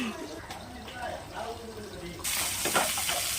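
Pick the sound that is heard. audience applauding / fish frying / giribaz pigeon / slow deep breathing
fish frying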